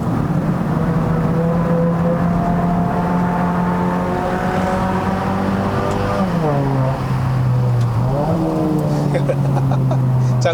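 A Mazda 3 BP 2.0L High Plus liftback drives hard uphill on the winding Genting road in Malaysia, its engine droning loudly and steadily inside the cabin, pitch rising and dipping through gear changes and corners, with a voice talking over it.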